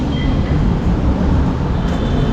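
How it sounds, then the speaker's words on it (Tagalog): A train pulls away from a station, a steady loud rumble of wheels and carriages heard at close range without talk. "So as of now, mga kaingat, mukhang kaalis lang ng tren."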